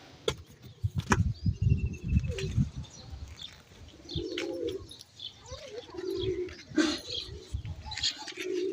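Pigeons on a rooftop coo in repeated low, throaty bursts, with soft chirps and brief wing flaps mixed in, close by and fairly quiet.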